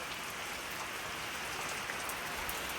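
Steady, dense rain pours down continuously, a loud even hiss of drops striking surfaces with no voices.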